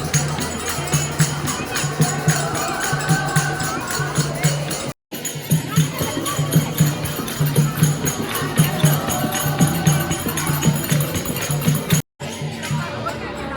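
A crowd of devotees fills the Khatu Shyam temple in Delhi with steady babble, footsteps and shuffling, while someone talks over the continuous hubbub with two brief dropouts.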